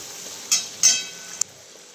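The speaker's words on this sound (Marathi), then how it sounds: "आता फोडणी देऊन घेते भाजीला" Tempering for a chickpea lentil curry crackles in a hot pan, with two or three short bright sizzling bursts and a sharp final pop over a faint background hiss.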